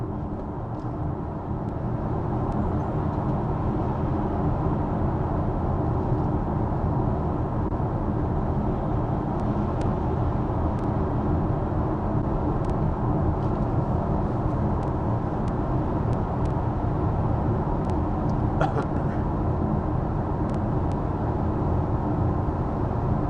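A BMW iX3 electric car cruising at 80 km/h, with a steady, even road and tyre rumble and wind noise from inside the cabin, broadband and unchanging throughout.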